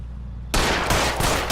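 Gunshots ring out in the L.A. Noire video game. After a quiet moment, a loud crack opens a string of sharp, close shots with short gaps between them.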